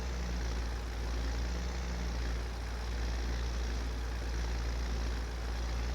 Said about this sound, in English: If the tractor's got enough power to pull 4 logs